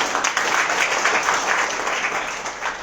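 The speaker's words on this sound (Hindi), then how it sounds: "तो जोरदार तालियां" Steady, dense applause from a sizable audience, continuous throughout with no voices rising above it.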